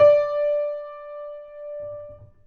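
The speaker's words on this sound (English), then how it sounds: "The left pedal, the una corda pedal on the grand, shifts the keys over and the hammers over." A single grand piano note played with the una corda soft pedal rings out clearly with a soft attack, then sustains and slowly decays over about two seconds, alone and close.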